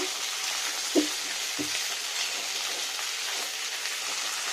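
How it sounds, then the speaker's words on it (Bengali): Potatoes frying in oil make a steady, even hiss, with a couple of soft knocks near the start and no voices. "দেখুন কত সুন্দর ভাজা যাচ্ছে আলুটা।"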